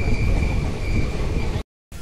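An unreserved passenger train running from Kachiguda to Medak rumbles loudly and continuously with rail noise and a thin wheel squeal, then the sound cuts out abruptly before resuming.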